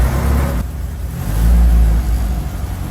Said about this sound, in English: Let's see if the engine starts.